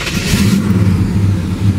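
A 1974 Pontiac SD 455 Formula Firebird's high-performance big-block V8 cranks and fires, a loud, close, deep rumbling burble with a brief starter whir at the very beginning.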